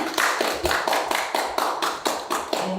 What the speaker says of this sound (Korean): 우리 서로에게 환영의 박수를 보내드리면서 시작하겠습니다.